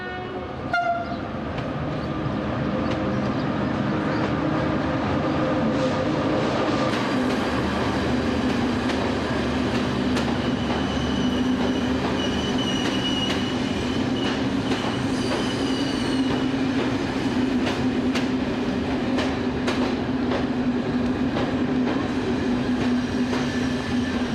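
A French SNCF train, a CC 72000 diesel locomotive, pulls into a station with a loud, steady rumble of engine and rolling wagons, wheel squeal and faint rail clatter, with no speech.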